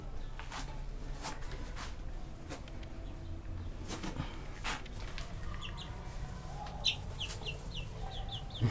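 Japanese five-toed silkie rooster and hens cluck in a yard, a scatter of short sharp clucks and calls that grow busier toward the end over constant outdoor background noise, with no talking.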